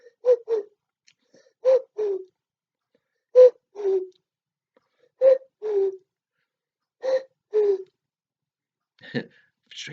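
A child imitates a bird call with paired, breathy hooting notes repeated about five times in a steady rhythm, close and fairly loud, followed by a short rougher squawk.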